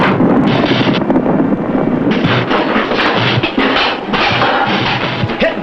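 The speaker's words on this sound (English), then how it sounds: "Their ammunition's exploding." Loud, rapid blasts and crackling bursts of a submarine's ammunition exploding roar almost without pause, harsh and close, like sustained artillery fire.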